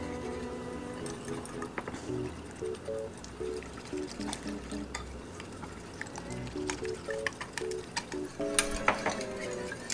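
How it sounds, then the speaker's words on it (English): A fork or small whisk stirs vegan French toast batter in a bowl, giving soft, steady clinking and sloshing with light taps against the dish, fairly quiet and with no talk. "with either a fork or a small whisk, go ahead and start mixing this up"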